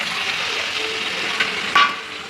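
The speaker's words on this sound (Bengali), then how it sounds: "এবার ঘিরে রাখা সবজিগুলো ঢেলে দিচ্ছি।" Chopped vegetables for a Malabar spinach dish tip into a hot pan and set off a steady, fairly loud sizzling hiss, with a couple of brief clatters partway through and no voices.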